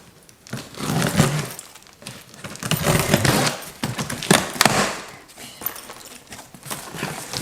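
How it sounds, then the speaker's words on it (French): Small key cutting open a parcel, a run of scratchy tearing and scraping bursts with irregular knocks, close and fairly loud, no talk. "je vais prendre une petite clé pour ouvrir le colis"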